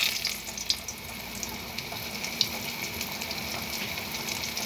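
Pieces of crab going into hot oil seasoned with a pinch of turmeric, giving a steady hissing sizzle with small crackling pops that carries on evenly throughout, with no voices.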